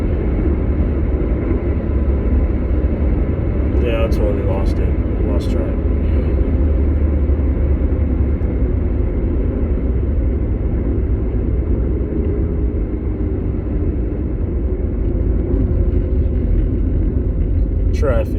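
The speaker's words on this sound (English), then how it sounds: "traffic." Steady low road rumble fills the cabin of a moving car, with passing traffic blending into a constant drone and a voice talking over it at times.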